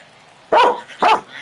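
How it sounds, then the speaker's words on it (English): A pet dog barks twice in close succession, two sharp, loud, nearby barks about half a second apart, against a faint background. "Sounds like I gotta take my dog out."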